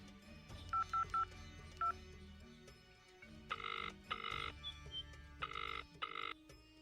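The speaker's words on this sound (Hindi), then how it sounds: "उनको फोन लगाते हैं" Telephone dialing tones, a quick run of short beeps followed by longer paired tones, heard faintly over quiet background music.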